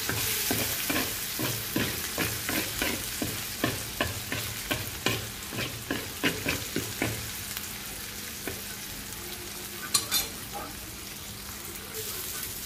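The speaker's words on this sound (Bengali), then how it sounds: "এটাকে একদম ভালো করে ভাজা ভাজা করবো।" Bitter gourd and potato pieces frying in a pan and stirred with a spatula, giving steady rhythmic scraping strokes about twice a second over a soft sizzle, with the stirring slowing and thinning out in the last few seconds.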